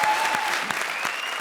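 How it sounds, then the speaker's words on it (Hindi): A comedy show audience claps in a brief, dense burst of applause, loud and close, with no talking over it. "आप लोग इंजॉय करते हो, आप लोग ताली बजाते हो"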